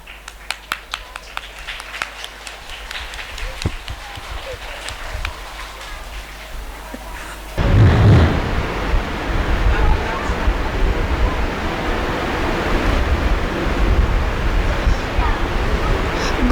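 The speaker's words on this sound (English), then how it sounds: "Kindly give a huge round of applause" Audience applause at a junior school elocution event: scattered clapping with crisp individual claps at first, then a sudden loud, rumbling, noisy wash that drowns the room, sounding muffled and distorted like wind on a microphone.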